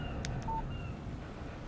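Text message alert chimes on a phone in Alan Wake Remastered, a pair of short bright beeps followed by a steady tone, heard up close over a low ambient hum.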